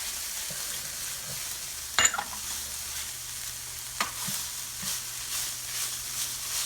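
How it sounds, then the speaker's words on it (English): Garlic cloves drop into a pot of browned beef, setting off a steady, moderately close sizzle with a sharp burst near the start and a few light clinks of stirring afterward. "now I'm going to put in my 3 cloves of garlic"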